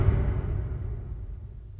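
A cinematic whoosh hit layered with two deep, low reverbs, one longer and one shorter, arriving as a dark, heavy boom that slowly fades into a murky rumbling tail with no other sounds.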